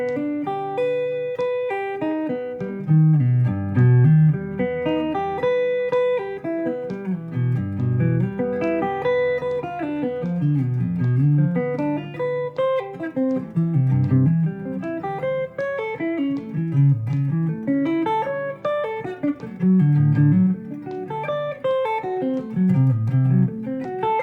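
Triad arpeggios over a Heart & Soul progression with secondary tensions, played in steady 16th notes that rise and fall in repeating cycles, bright and close, with no voice.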